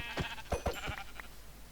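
Minecraft sheep bleating in the blocky video game, a few short wavering bleats in quick succession, close and clear, followed by a fainter final call.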